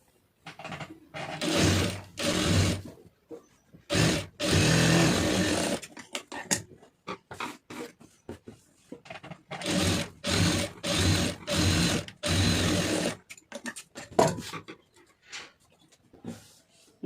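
Sewing machine stitching the lining of a blouse, running in repeated bursts of a few seconds each separated by short pauses, close and moderately loud.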